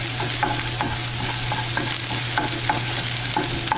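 Onion sautés in a frying pan for Mexican chicken tacos dorados, giving a steady close sizzle with light stirring clicks throughout, with no talking.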